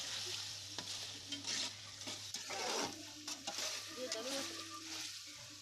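A steady sizzle of garlic-ginger paste frying in a pan, with a spoon scraping and stirring through it in irregular strokes.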